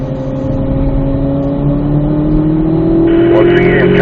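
A car accelerates hard out of a track curve, its engine note climbing steadily and loud and close throughout, with speech running over the engine.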